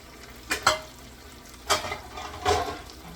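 Broccoli stir-fries in a hot pan with a steady low sizzle, punctuated by three louder scraping stirs of a utensil against the pan.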